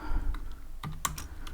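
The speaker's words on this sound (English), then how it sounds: "So I'm going to type from" A computer keyboard typing Python Tkinter code gives a handful of crisp, scattered keystrokes close by, with no one talking.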